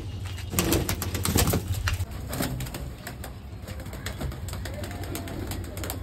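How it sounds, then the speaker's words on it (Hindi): Pigeons cooing softly among scattered bird calls and wing flutters, over a steady low background hum, with a louder burst of activity early on. "अब बस हम इधर के कबूतर खोल लेते।"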